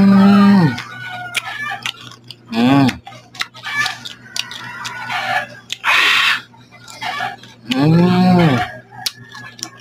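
A neighbour's rooster crows loudly and close by several times, its drawn-out calls separated by short clucks and other farmyard noises, with no clear talk.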